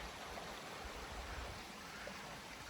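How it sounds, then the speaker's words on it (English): Little Wilson stream in the 100 Mile Wilderness on the Appalachian Trail, running low over rocks, gives a steady, even rush and burble of flowing water, soft and continuous throughout with no voices. "This is Little Wilson's stream or creek."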